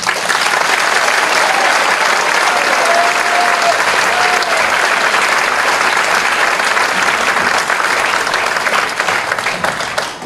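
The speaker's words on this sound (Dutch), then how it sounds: "Geef ze een hartelijk applaus." Dense, steady applause from a concert audience for the Traffic Jam combo at a Kidzproms evening, a continuous loud wash of clapping that holds for about ten seconds, with a few whistles near the start, before tapering slightly at the end.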